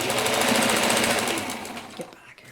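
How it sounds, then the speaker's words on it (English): A sewing machine stitching down quilt seams runs in a fast, even mechanical whir for about two seconds, then slows and stops. "Now I'm just going to sew the seams down"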